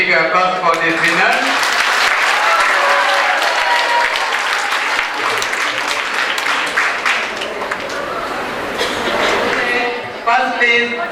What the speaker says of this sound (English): Please give a big applause for this winner.